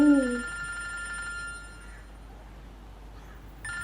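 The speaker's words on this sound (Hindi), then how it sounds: "अरे फोन बज रहा है।" A telephone rings in a home, an electronic ringtone opening with a loud warbling tone and then continuing more faintly, with bright repeating tones returning at the end.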